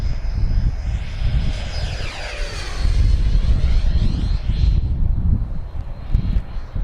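HSD / Banana Hobby Viper Jet 75mm RC jet on a 6s setup roars steadily overhead, its electric ducted-fan whine sweeping in pitch as it passes, loud and continuous with wind noise underneath.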